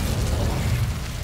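An Incendio fire spell from Hogwarts Legacy erupts as a short, rumbling burst of flame, loud and dense, lasting about a second.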